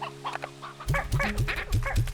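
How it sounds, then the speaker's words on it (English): Chickens in the video game Slime Rancher 2 clucking in a quick run of short, low, repeated calls, fairly loud, over a soft steady hum. "There's even some chickens around to feed ya."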